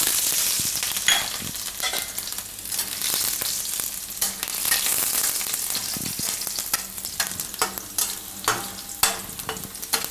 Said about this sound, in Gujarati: તો તેલ આપણું ગરમ થઈ ગયું છે. તો એમાં આપણે આ લસણની કળીઓ નાખી દઈશું.